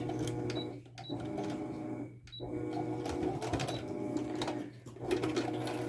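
A sewing machine runs in short back-and-forth bursts while back stitching, with clicky mechanical texture and brief pauses between passes, close and fairly quiet.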